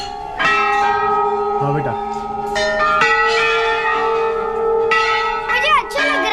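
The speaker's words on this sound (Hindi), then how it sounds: "और देखिए घंटियाँ" Temple bells ring at Kasar Devi temple in Uttarakhand, with several bright metallic clangs struck one after another. Each leaves a long shimmering ring, and a brief voice speaks early on.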